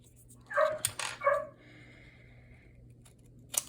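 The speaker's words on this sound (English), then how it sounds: "I'm gonna go let the dog in" A dog barks a few times indoors around the middle of a craft build of a light-up box, two or three short sharp barks followed by a faint yip, fairly close.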